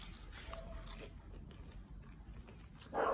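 Close, soft bites and chewing into a fried shrimp cheese donut that is undercooked and still cold inside, quiet and muffled, with a slightly louder crunchy scrape near the end.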